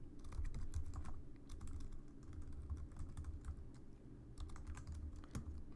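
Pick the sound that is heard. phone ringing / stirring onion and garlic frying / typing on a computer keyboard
typing on a computer keyboard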